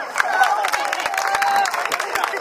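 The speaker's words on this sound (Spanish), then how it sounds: "fuerte el aplauso para la tía" Applause for an aunt at a birthday party, steady clapping from a small crowd with some cheering and voices mixed in throughout.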